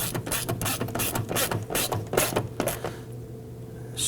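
Screw being snugged down at the base of a side mirror on a 2018-2024 Toyota Camry, a close ratchet clicking in quick bursts of pawl ticks, then stopping.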